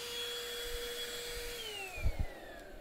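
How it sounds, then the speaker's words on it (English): Small beetle vacuum running with a steady whine that slides downward in pitch, followed by a couple of soft thumps near the end; no talking. "I have a beetle vacuum."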